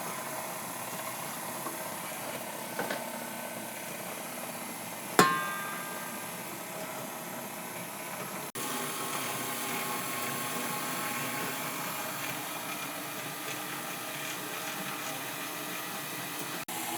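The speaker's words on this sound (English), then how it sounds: "Now mix the wet ingredients a little bit on slow speed." An electric mixer runs on slow speed through wet carrot cake batter, a steady even whir, faint and unbroken.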